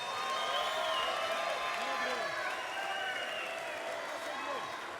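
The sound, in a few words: audience applause for fighters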